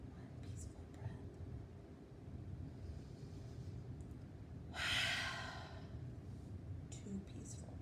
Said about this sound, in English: peaceful breaths are big breaths in through your nose and then out through your mouth